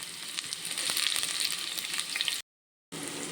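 Sliced onions frying in coconut oil and ghee for prawn biryani crackle and sizzle steadily up close, then cut to a brief silence before the sizzling resumes.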